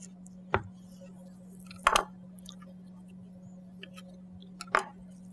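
A knife cuts portions from a beef tenderloin with a few sharp, close taps and slicing squishes at irregular intervals over a steady low hum.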